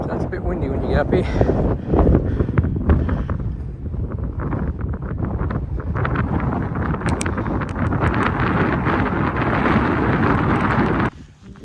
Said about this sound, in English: So it's a bit windy when you get up here